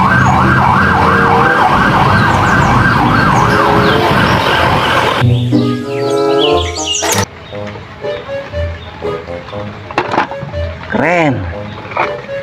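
A toy police patrol car's electronic siren wails in a fast, warbling loop, loud and close, then switches to other siren and tone patterns with brief gaps and a few chirping sweeps.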